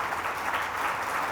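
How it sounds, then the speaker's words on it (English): Audience at a panel discussion applauding the panelists, a steady wash of many hands clapping, moderately loud and sustained throughout. "So friends, a big round of applause for both"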